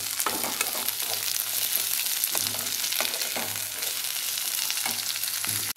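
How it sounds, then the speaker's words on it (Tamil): Pirandai (adamant creeper) fries in oil while being stirred, a steady hissing sizzle with soft periodic stirring scrapes, close and moderately loud, ending abruptly. "இது நல்லா பொன்னிறமாக வர வரைக்கும் ஒரு மாதிரி எல்லோ கலர் ஆகும் அது வரைக்கும் இந்த எண்ணெயிலேயே நல்லா வதக்கணும்"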